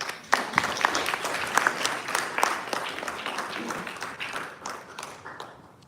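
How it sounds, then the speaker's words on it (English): An audience claps for Auntie Renu at an Aradhana Mahotsavam program, a steady broadband patter of many hands that rises quickly and slowly thins out over about six seconds, with no talk over it. "a round of applause for Auntie Renu."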